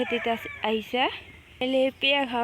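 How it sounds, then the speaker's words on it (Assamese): Turkeys out in a field of grass give a run of close, loud clucking and gobbling calls in short bursts, with brief pauses between the groups of calls. "ইফালে দেখা পাইছে মোৰ টাৰ্কি চৰাইবোৰ"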